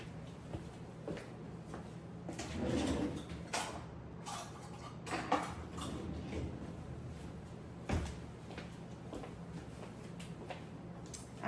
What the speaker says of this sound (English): let me get a measuring cup